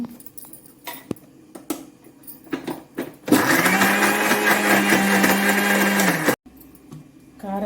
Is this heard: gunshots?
no